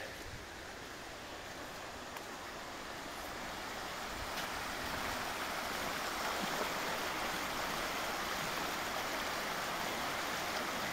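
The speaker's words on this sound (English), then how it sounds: "Something about running water, so calming, isn't it?" Running water from a stream near Lennox Castle Hospital in Scotland, a steady broadband rush and babble heard up close, constant and moderately loud, slowly swelling slightly with no voices.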